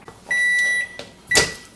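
A microwave oven cooking an egg under a lid: a loud electronic beep tone, a click, then another beep with a thump of the door, close and without talk.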